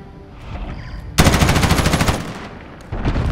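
Machine gun fire in Call of Duty Modern Warfare during a cyber attack match, one loud close burst of rapid shots lasting about a second, followed by quieter game noise.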